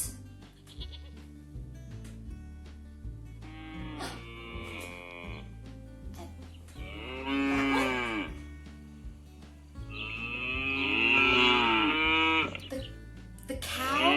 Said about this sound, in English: The cow? Shh, cow.